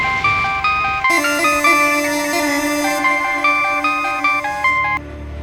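A melodic electronic ringtone plays a repeating tune of bright synthetic notes, loud and close, stopping abruptly near the end.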